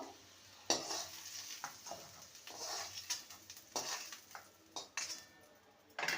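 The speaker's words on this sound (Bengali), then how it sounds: "আলুকে সুন্দর করে ভেজে নিয়েছি এবার তুলে নেব" Potatoes with salt and turmeric frying in a pan, a quiet sizzle punctuated by repeated clinking scrapes of a spatula against the metal, irregular and close, with no voices.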